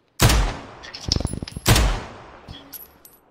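Gunfire in a video game, heard as two loud sharp shots with a quick rattle of smaller bangs between them, fading into a brief ringing tail.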